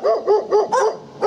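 Dogs bark on a country walk through coppiced hornbeam woodland, five quick close barks in a rapid, agitated rhythm, loud and near.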